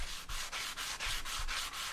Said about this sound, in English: I used water sandpaper or wet sanding to sand the whole board down and get it smooth